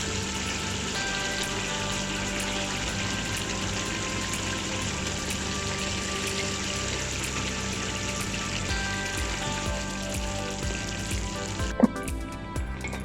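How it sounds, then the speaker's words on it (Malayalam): Cornflour slurry poured into sizzling gobi manchurian, cauliflower frying in a hot pan, giving a steady, close hiss and crackle of oil throughout, with a brief clatter near the end. "കോൺഫ്ലവർ കുറച്ച് വെള്ളത്തിൽ കലക്കിയിട്ടുണ്ട്. അതും കൂടി ഒഴിച്ചു കൊടുക്കാം."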